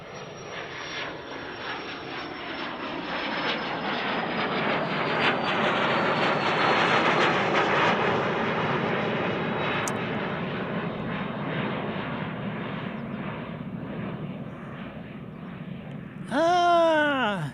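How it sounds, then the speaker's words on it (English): A Cessna Citation business jet takes off at Tucson International Airport, its engine roar building to a loud peak and then slowly fading into the distance while someone talks. "No, it's a Cessna Citation."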